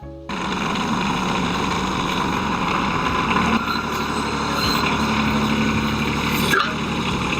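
A mini excavator with screw-type track tensioners runs steadily close by as its track is driven slowly, giving a continuous loud engine drone with a mechanical rumble and no break.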